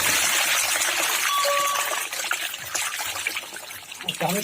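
Water drains from a fish tank holding brood fish, a steady close trickle and gush of flowing liquid that eases slightly toward the end.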